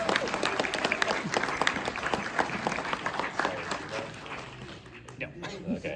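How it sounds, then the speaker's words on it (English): A convention audience at a nerd debate event claps and cheers for the debaters, dense loud applause that tapers slightly toward the end, with voices mixed in. "big round of applause for our debaters"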